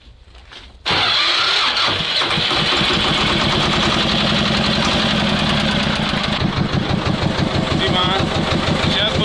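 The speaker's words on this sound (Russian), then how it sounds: "нам нужно запустить мотор" A T-16 tractor fitted with a hydraulic manipulator arm cranks and catches, then settles into a loud, steady, close-up knocking idle that runs for the rest of the stretch.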